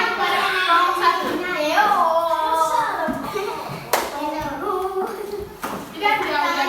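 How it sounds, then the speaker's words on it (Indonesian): Sixth-grade elementary pupils in a classroom clap for a group that has just presented. A few sharp claps break through a busy mix of children's chatter and shuffling. "beri tepuk tangan kepada kelompok 1"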